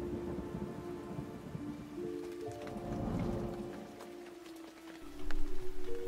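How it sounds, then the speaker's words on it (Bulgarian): Steady rain falls in a broad, even hiss, joined near the end by a low rumble like distant thunder, with sustained musical tones running underneath throughout. "А дъждът рами, рами,"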